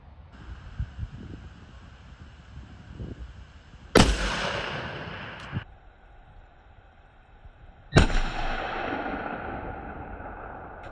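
Two loud rifle shots fired at milk jugs set 620 yards away, each a sharp crack followed by a long rolling echo across open ground, several seconds apart, with faint rustling between them.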